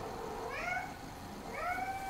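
A house cat meows twice, two rising-falling calls about a second apart, fairly close and clear over a quiet background.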